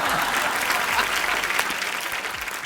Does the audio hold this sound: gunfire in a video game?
no